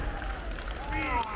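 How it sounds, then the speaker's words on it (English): A wrestling crowd in Helsinki cheers and rallies behind a wrestler, a steady roar of voices and clapping at a distance, with a commentator talking over it. "Helsinki crowd getting right behind CJ Rawlings right now as he picks Johnny McMetal up from the canvas."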